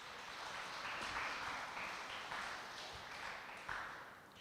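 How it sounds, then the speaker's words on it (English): Audience applause for the Bishop's High School, Tobago debate team at a national secondary school debate competition, a steady, fairly quiet patter of clapping that holds for several seconds with a few sharper claps. "So give Bishop's High School, Tobago a round of applause."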